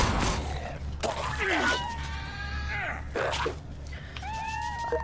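A cat meows several times in the Fallout Shelter video game, with rising and falling cries over steady game background noise and a low hum.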